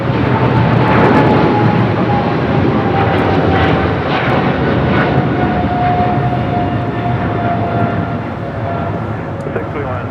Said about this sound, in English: This is Japan Airlines Flight 15 taking off to Tokyo, Haneda.